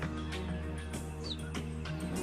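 A cheetah mother separated from her cubs gives bird-like chirps, several short high calls scattered over a low steady background hum, faint and moderately distant.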